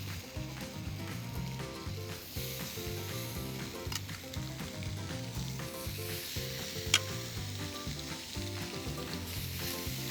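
Thick steaks searing on a Lynx electric grill with the lid up, a steady close sizzle and crackle running continuously without talk, with faint background music.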